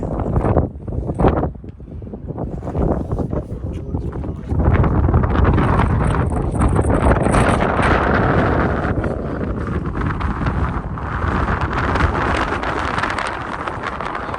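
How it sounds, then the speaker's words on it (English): Strong wind buffets the microphone with a loud, rumbling roar that gusts and holds steady, close and harsh throughout. "Oh, it's windy here."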